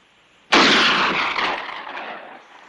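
A single loud gunshot cracks out close by in a western shootout, then rings and decays slowly over the next two seconds.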